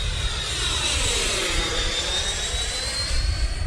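A Freewing F-15 Eagle 90mm electric ducted-fan RC jet flies past with a steady, loud turbine-like whoosh and a thin high whine, sustained throughout with no talk.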